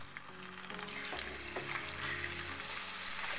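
Butter hitting hot amber caramel in a pan sizzles steadily while being stirred, a continuous crackling fry with light scraping, fairly close and moderately quiet, no voices.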